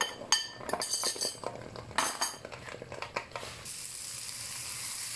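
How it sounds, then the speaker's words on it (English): Onions and mushrooms frying in a pan, sharp utensil clinks and scrapes against the pan in the first few seconds, then a steady close sizzle takes over. "So I'm frying the onions and the mushrooms until it's nice and golden brown."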